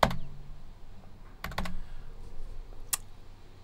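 A few separate key presses on a computer keyboard, a sharp click at the start, a quick double tap about halfway and one more tap near the end, close by over a low room hum with no talk.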